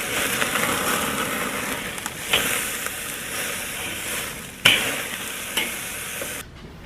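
A marinated beef chuck roast sears over a hot fire, hissing and crackling loudly up close, with a few sharp scrapes and thuds as it is moved, before the sound cuts off at the end.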